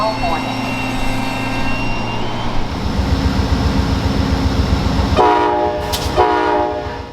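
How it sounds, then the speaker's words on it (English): Amtrak train 49 carrying the New York Central Hickory Creek car roars past with heavy rail rumble, and its horn sounds in loud sustained blasts over the passing noise. "At number 2 is the New York Central Hickory Creek on Amtrak train number 49."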